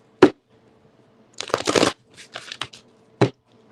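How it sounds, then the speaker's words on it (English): Playing cards are shuffled in a quick riffle, with a few soft card taps before and after, close and clear in a quiet room. "Quick shuffle."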